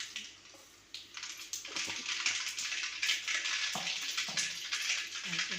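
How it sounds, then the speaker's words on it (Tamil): Mustard seeds crackle in hot oil in a pan while cooking vendakkai puli kulambu: a continuous soft hiss and sizzle, close by but fairly quiet, with small scattered pops throughout. "இப்போ எண்ணெய் சூடாயிடுச்சு. கடுகு போட்ட"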